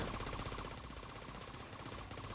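Rapid gunfire from Tom Clancy's The Division 2, a dense rattling stream of shots at a steady, loud level with no speech.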